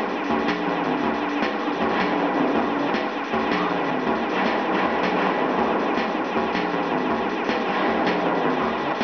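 Train rumbling and clattering steadily in the video game Sly 2: Band of Thieves, a dense continuous rolling noise with faint rhythmic clicks, loud and close, with no voices.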